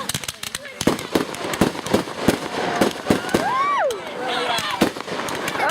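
Fireworks pop and crackle in a rapid, continuous barrage at an outdoor celebration. Sharp bursts overlap with excited voices and shouting throughout, and a few rising whistles are heard.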